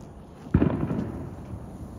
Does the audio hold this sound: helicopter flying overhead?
no